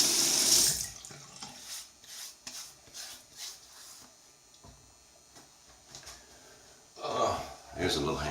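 Tap water runs into a sink for wet shaving with a Gillette Old Type single ring razor, a loud gush at the start and again near the end with wet splashing and rubbing in between, close by.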